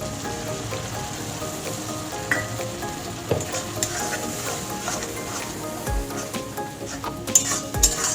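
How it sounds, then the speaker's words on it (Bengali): Ground poppy seed paste hits a hot pan and sizzles steadily with a rain-like hiss, while a spoon stirs and scrapes through it up close, with occasional louder knocks. "এবার দিয়ে দেবো পোস্ত বাটা"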